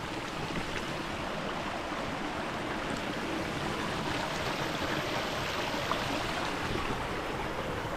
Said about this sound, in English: We also have a little creek crossing right here too.